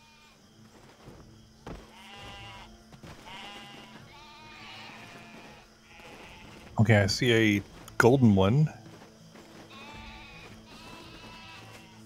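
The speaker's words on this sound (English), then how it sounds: "I see a whole hell of a lot of these annoying sheep. Goats, whatever." Sheep bleating in Black Desert Online, several loud, wavering bleats close by in two quick bursts midway, with someone talking calmly before and after.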